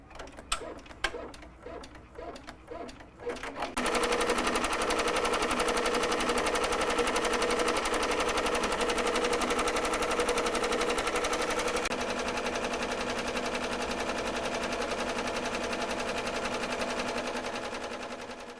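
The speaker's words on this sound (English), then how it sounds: "I'm going to go ahead and just remove the binder clips and just go ahead and start the embroidery." Embroidery machine stitching on the small sleeve of a tiny leotard held in a hoop frame: a few clicks and thumps, then a fast, steady mechanical rattle of the needle running continuously, close and loud, easing slightly at the end.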